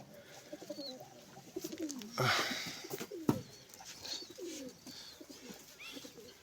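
Pigeons coo softly in a steady background of birdsong and chirps, with a few louder bursts of rustling or movement nearby.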